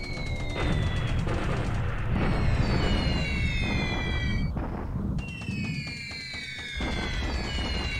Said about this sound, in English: Bombing fuel tanks. I like this.